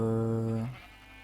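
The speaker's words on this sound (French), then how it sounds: "Ah, un mouton." A single short bleat comes from a sheep in a block-building video game. It is clear and tonal, fades quickly and is heard alone.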